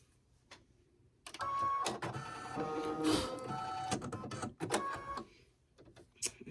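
An embroidery machine stitches a daffodil coaster, a continuous buzzing, rattling run lasting a few seconds with brief pauses in its rhythm, close and alone.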